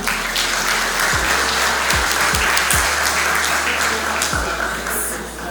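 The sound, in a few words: applause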